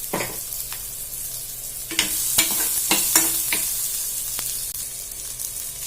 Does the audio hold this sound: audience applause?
no